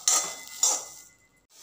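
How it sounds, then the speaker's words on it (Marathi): Fresh pigeon pea grains are stirred as they roast in a wok, with two sharp scraping clatters of a spatula against the pan and a faint rustle between them, close by with no one talking. "आधी आपण कढईमध्ये हे दाणे भाजून घेणार आहोत।"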